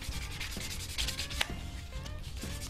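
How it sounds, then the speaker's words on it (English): Sandpaper, 400 then 800 grit, rubs over dried epoxy on hybrid wood and fiberglass knife scales in quick, close back-and-forth strokes, quiet and alone. "So now that epoxy is dry, I'm just doing a little finish sanding."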